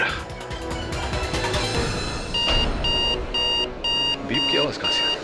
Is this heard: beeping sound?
yes